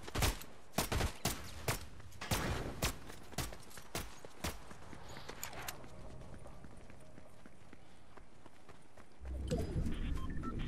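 Gunfire while shooting down an enemy in an online shooter: a quick series of sharp, loud shots in the first seconds, then quieter game ambience and a swelling rumble toward the end.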